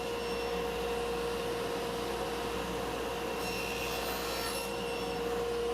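A piece of walnut scrap being cut to short lengths with a saw, heard as a faint, steady rasping drone over a constant hum, with a brief brighter scratchy burst near the end.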